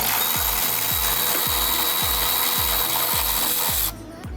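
A hand ratchet or power tool loosening a 10mm bolt on the fender of a wrecked Ford Lightning truck, with about eight evenly spaced clicking pulls over a steady hiss, close and loud.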